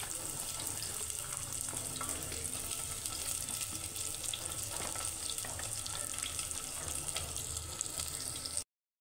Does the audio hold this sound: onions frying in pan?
yes